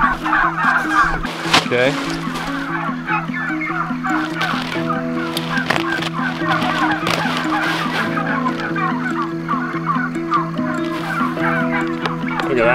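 A flock of farm chickens clucks and squawks continuously on a pasture-raised poultry farm, a dense chorus of overlapping calls with people talking nearby.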